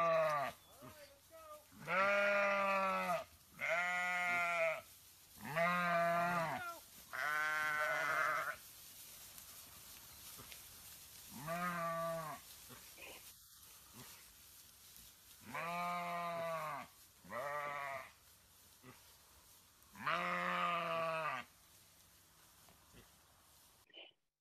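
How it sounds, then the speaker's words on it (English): Sheep bleat repeatedly as the flock leaves a grazed-out pen for a fresh one in an orchard. The bleats come in a steady series of loud calls with quiet gaps between them. "That's a video of the sheep leaving one pen that they've completely eaten and going into a fresh new pen."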